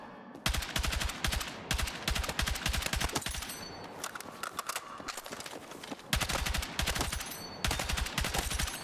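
Rapid bursts of M277 rifle fire in Battlefield 6, a dense automatic clatter of closely spaced shots repeated in several long strings with brief pauses between, loud and close throughout.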